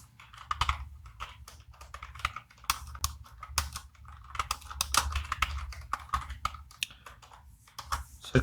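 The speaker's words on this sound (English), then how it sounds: "Let's type it again." Computer keyboard typing, a steady stream of crisp close key clicks with brief pauses between runs, heard on its own without speech.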